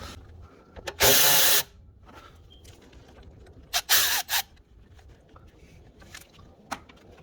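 A power ratchet works a 10 mm bolt on a 2003 Acura RSX Type S: a half-second buzzing burst, then a cluster of shorter bursts a few seconds later and one final brief zip, close and loud over quiet shop background.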